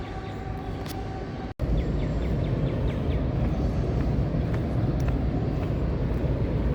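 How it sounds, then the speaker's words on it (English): A train rolls over railroad tracks near a historic church along the start of an Appalachian Trail hike, a steady distant rumble filling the background with faint rhythmic clicks, no voices. "Train in the background going over tracks that we had to cross while we're walking."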